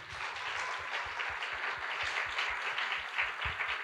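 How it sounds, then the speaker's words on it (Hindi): Church congregation clapping during a sermon, a soft, distant wash of steady applause with a rhythmic low thumping pulse beneath it. "आए यीशु के लिए जोरदार तालियां बजाएं"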